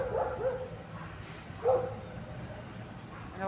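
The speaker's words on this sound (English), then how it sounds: "don't know why that dog is giving the garbage guy a hard time" A dog in an outdoor park barks at a garbage collector, a few moderately distant yips and barks against a steady background murmur of traffic and wind.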